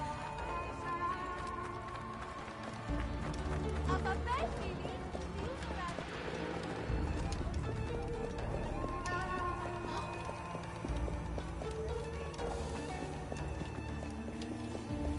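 Horse hooves gallop in an Assassin's Creed Origins game scene, a continuous run of clip-clop beats mixed with other game sounds and voice-like noise.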